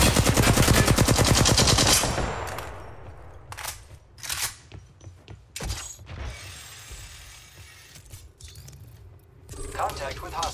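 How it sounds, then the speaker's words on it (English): Rapid automatic gunfire from enemies in Apex Legends rattles loudly for the first two seconds, then scattered sharp shots, mechanical clicks and clatter follow in bursts, with game voice lines between. "The enemies are shooting at me."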